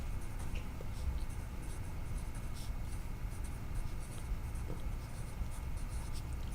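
Writing a chemical formula on a board gives faint scratchy strokes, quiet and close, over a steady background hiss with no voices.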